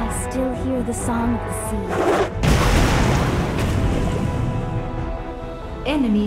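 An enemy turret blows up in the mobile game Wild Rift: a deep boom bursts out and rolls into a rumbling crash that decays over several seconds amid other game effects.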